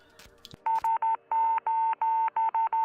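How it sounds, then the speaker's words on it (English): SOS distress signal in Morse code, beeped as a steady tone: three short, three long, three short pulses, loud and clear after a brief click and crackle at the start. "the brothers intercepted an SOS Morse code distress signal from a cosmonaut orbiting Earth"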